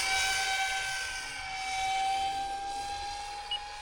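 Electric motor of an RC F-22 model jet held at full throttle, a steady high-pitched whine with a rushing hiss that swells and eases slightly, with no talk.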